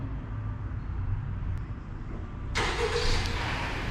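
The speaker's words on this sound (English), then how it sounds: "the car starts just like that." A 2019 Honda Accord Sport with its 1.5T engine starts by remote, with a low idle rumble and then the engine catching with a sudden bright surge near the end, close by.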